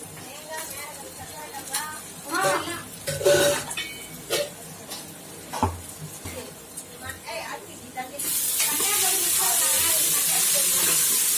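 Ginger garlic paste frying in a pan for duck curry gravy, clattering stirs and sizzle giving way to a steady loud hiss of frying in the second half, with a voice talking over the first part.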